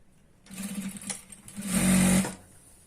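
Sewing machine stitching the waistband of a chudidar pant, a steady whirring run that starts, eases briefly, then surges louder for about a second before stopping.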